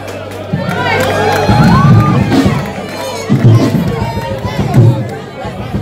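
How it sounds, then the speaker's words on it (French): A large concert crowd in Kinshasa cheers and shouts in waves, with overlapping voices and loud bursts of noise throughout. "Applaudissements pour"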